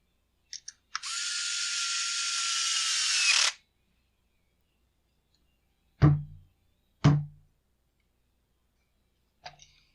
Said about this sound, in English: We'll get our bolt in on this side and then we're all done on this half of the saw.